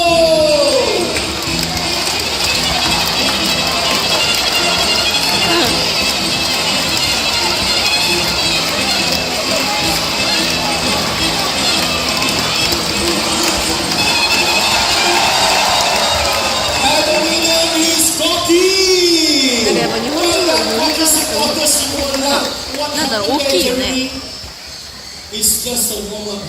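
Audience supporters at a Jurong Bird Park show cheer and shout loudly for their birds, a sustained crowd roar with whoops and children's voices, swelling and shifting near the end.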